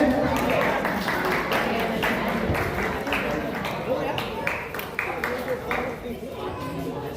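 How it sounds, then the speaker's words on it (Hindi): Audience applause welcoming a professor to the stage at a public gathering, dense claps running continuously over a crowd murmur, with voices mixed in. "जोरदार तालियों से स्वागत करें"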